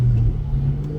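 A 2003 Cobra car engine with a newly installed clutch cable runs steadily at close range, a low, even rumble with no voices.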